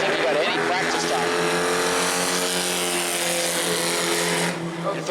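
Bomber-class race car, number 83, qualifying at New Smyrna, its engine roaring loud and close at a sustained high pitch through the lap with only a slight drop at the end.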